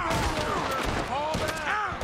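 Gunfire during a Red Dead Redemption II shootout, a dense stream of overlapping shots, ricochet whines and thuds, with a voice talking over parts of it.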